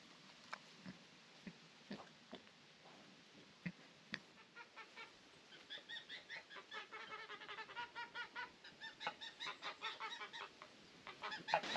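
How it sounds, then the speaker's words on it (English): Geese bred from orchard guard geese on an Ontario homestead in autumn honk and cackle, sparse at first and then building into a rapid, rhythmic chorus of calls at moderate distance. "These geese are the offspring of the guard geese up in the orchard."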